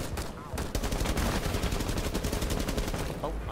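Loud, rapid automatic gunfire rattles through a Rainbow Six Siege match on the Hereford Base map, sustained bursts of shots up close with no speech.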